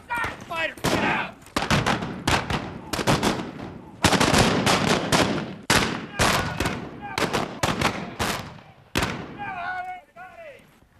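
Blank-fire gunshots from a staged Wild West gunfight reenactment at the OK Corral, a rapid volley of loud sharp cracks in bursts, with shouting voices between and over the shots.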